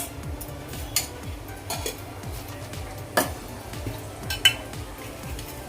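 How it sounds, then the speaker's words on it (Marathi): Half a spoonful of mustard seeds sizzles and crackles in heated oil in a pan for a quick potato bhaji, with scattered clinks and scrapes of a spoon against the metal. "तेल गरम झालं आता यामध्ये आपण मोहरी घालूया अर्धा चमचा"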